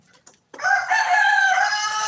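A rooster crows once, loud and close, a long drawn-out call following a couple of faint clicks.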